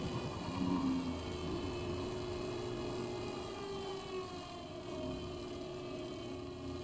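A treadmill motor spun by a hacked MC1000 treadmill control board gives a steady, close electric whine and hum with faint tonal lines that hold nearly constant throughout, alone without speech.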